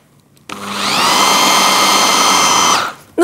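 A kitchen blender whirs steadily as it purées hummus with chopped chives, a loud continuous motor whine starting abruptly and running about two seconds before cutting off, with no talk over it.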